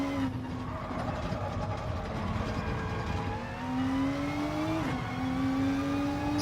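Renault Group 3 race car in Gran Turismo Sport, engine whining and climbing through the revs with gear shifts, sustained and close, with a short dip in loudness partway through.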